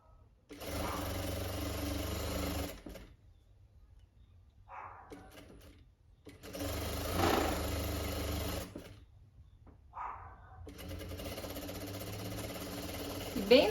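A sewing machine stitches winter pajamas in three long runs of rapid mechanical whirring, separated by pauses where brief quieter handling sounds occur.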